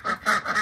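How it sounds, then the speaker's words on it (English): Ducks quacking on a farm where chicks and ducks have a new floor: three short, nasal quacks in quick succession, close and fairly loud. "There's a duck,"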